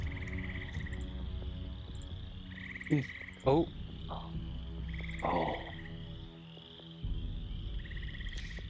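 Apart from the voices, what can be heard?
frog croaking, sound effect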